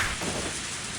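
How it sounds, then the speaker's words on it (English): Steady rain falls in a video game scene, a dense, even hiss that stays loud and unbroken throughout with no voices over it. "Only the sound of rain filled this tense moment."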